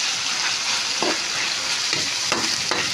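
Bitter gourd (ampalaya) sautés with chicken in a pan, giving a loud, constant sizzle broken by scraping stirs about once a second, with no talking.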